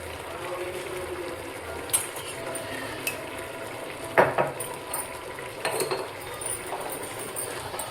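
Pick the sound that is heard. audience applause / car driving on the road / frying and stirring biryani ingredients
frying and stirring biryani ingredients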